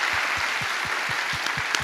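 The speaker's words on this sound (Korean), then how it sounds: "우리 박수로 축하드립니다." A short burst of applause in a church follows an infant baptism ceremony for nineteen children, a steady hiss of clapping with soft rhythmic low thumps underneath, moderately loud.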